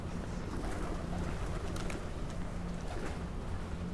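Pigeons gather on a busy New York street in Manhattan, faint cooing and fluttering mixed into steady wind and city noise.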